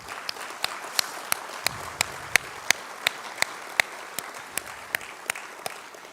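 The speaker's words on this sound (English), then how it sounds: "can we just take a round of applause for those people?" An audience at a career academy signing ceremony applauds in a steady crowd patter of hands, with a few sharper individual claps standing out over the sustained clapping.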